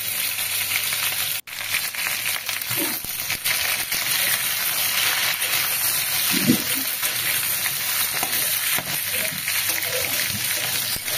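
Pointed gourd and potato fry with prawns in a pan, giving a continuous close hiss and sizzle with occasional stirring clatter and soft knocks.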